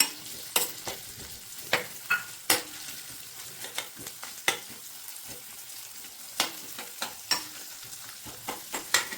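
Roughly chopped onions fry in a pan, a constant soft sizzle broken by repeated sharp scrapes and clatters of a spoon stirring against the pan, close and moderately quiet.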